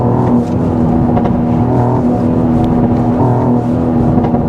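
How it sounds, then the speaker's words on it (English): A 2024 Mercedes-Benz GLE 53 AMG engine kicks down at full throttle, a loud, close, sustained droning roar that holds steady with slight rises in pitch. "And let's give it full throttle here. Kick down, and got a decent pull."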